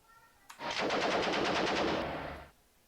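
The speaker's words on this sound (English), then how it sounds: "And then we will fire the coax machine gun." A coaxial tank machine gun fires in the Armoured Commander 2 war game, one continuous rapid burst of about two seconds with a sharp onset, heard alone at moderate loudness.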